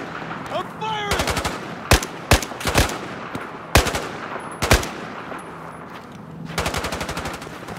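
Battlefield 4 gameplay on the Baku map: loud bursts of machine gun fire and single sharp shots, some close and punchy, interspersed with brief voices and battle noise.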